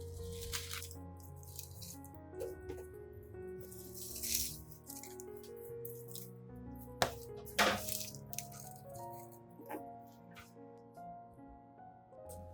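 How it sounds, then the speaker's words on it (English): Hot water is poured into a glass jar holding dry onion peels, giving a faint trickling splash with small clinks and crackles of the peels and glass, quiet and close, no speech. "Next, add 500 milliliters of hot water"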